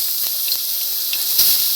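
Crushed ginger and garlic sizzle in hot coconut oil, a steady bright hiss that holds throughout and swells slightly near the end, close and alone with no talk.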